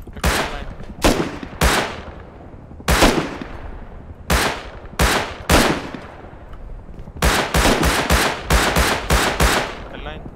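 Loud, sharp gunshots are fired at a helicopter in a Rust-like survival video game, spaced single cracks early on, then a rapid string of repeated shots near the end, each trailing off with a ringing decay.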